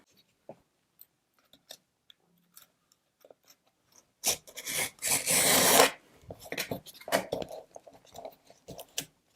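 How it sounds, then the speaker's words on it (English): X-Acto knife trimming excess canvas flush to the edges of a wood panel, a sequence of faint scattered ticks and small scrapes followed by louder close rasping cuts and rubbing in bursts. "I'm going to use my X-Acto knife for the trimming"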